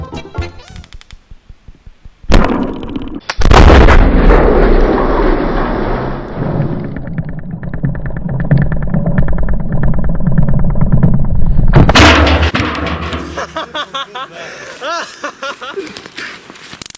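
A carbide-filled barrel blasts off with a sharp, loud bang and a second burst, followed by a long rushing roar and then scattered noises and thumps.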